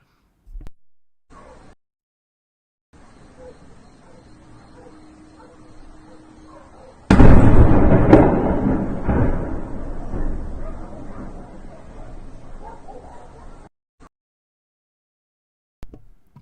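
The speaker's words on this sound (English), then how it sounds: "Ukrainian forces have reportedly hit a Russian ammunition depot within the occupied areas of Donetsk, and this caused an extremely large explosion" A Russian ammunition depot in occupied Donetsk erupts in an extremely large explosion: a sudden loud blast after near silence, then a heavy rumbling roar that slowly fades over several seconds.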